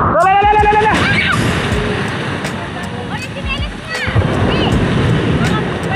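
Sea waves surging and splashing around a small boat off southern Leyte, a loud continuous wash with wind buffeting the microphone, while voices call out and shout over it.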